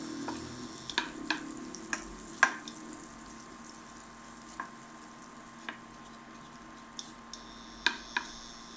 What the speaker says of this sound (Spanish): poner en una sartén un poco de mantequilla y derretirla a fuego bajo